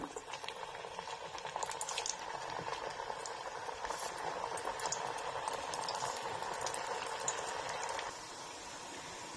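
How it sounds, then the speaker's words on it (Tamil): Black-eyed pea vadai deep-frying in hot oil, with a steady, faint bubbling and crackling that runs throughout and drops slightly near the end. "இப்ப இதை எண்ணெயில போட்டு எடுக்கலாம்"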